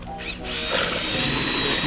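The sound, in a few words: power drill mixing sugar water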